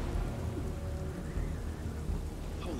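Steady rain pours down in a video game with a fire creature caught out in it, a dense continuous hiss with low rumbling beneath, fairly faint and with no voices.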